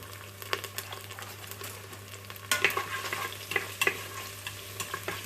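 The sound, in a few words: half a brown onion frying in a pan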